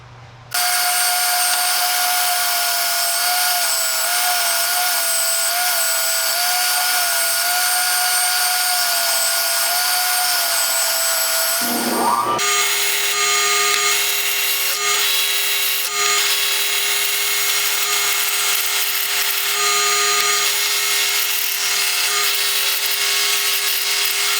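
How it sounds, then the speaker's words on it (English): A spindle sander shapes a wooden guitar part with a loud, continuous drone and steady abrasive rasp close by, the pitch dropping partway through as the load changes; no talking. "I'm gonna pull my spindle sander down, and I'm gonna go over this a little bit, finish the shape"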